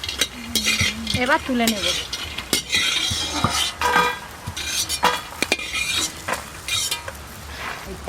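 Food stirred in a pan with a metal spoon, repeated scraping and clinking strokes over a light sizzle, with a brief spoken remark.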